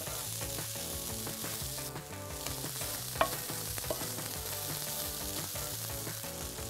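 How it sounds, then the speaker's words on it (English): Shredded leftover turkey frying and browning in a pan gives a steady, dense sizzle, heard close and continuous, with one brief clink partway through and no talking. "we're gonna let this cook now for about 2 to 3 minutes to get some nice browned edges on"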